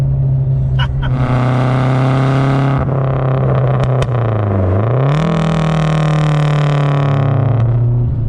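A Lancia Delta HF Integrale Evoluzione engine runs loud and close, holding a steady note, then the pitch dips and rises as the throttle is released and picked up again.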